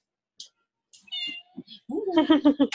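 A studio cat in a pottery studio gives several close, clear meows in quick succession, short chirps at first building to a louder drawn-out meow, with no other sound around them.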